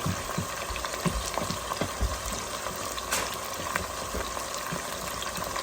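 Steady, dense sizzling and crackling of marinated garlic chicken drumsticks frying in hot oil, with occasional louder pops and spatters throughout.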